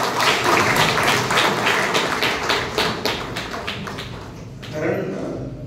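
An audience at an award distribution ceremony claps for the board of directors, a busy run of close, rhythmic hand claps that thins out and fades near the end.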